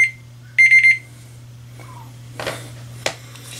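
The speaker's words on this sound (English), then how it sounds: "there goes my phone alarm clock" Phone alarm clock ringing in a quiet room, a short burst of rapid repeated electronic beeps, then rustling and handling noises over a low steady hum.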